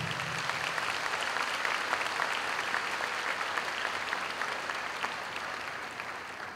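A church congregation applauds at a prayer apostolate congress, a steady dense wash of clapping from many hands that holds evenly throughout with no voices.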